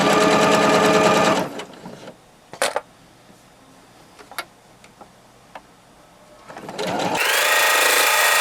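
A sewing machine stitches over the nose wire section of a fabric face mask: a loud, close burst of rapid stitching, a quiet stretch with light ticks and clicks, then the motor whirs up again.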